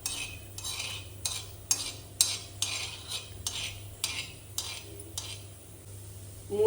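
A spoon scrapes and stirs urad dal and coriander seeds roasting dry in a pan for bisi bele bath, repeated soft scraping strokes in a steady rhythm with a faint background hum, quiet and close.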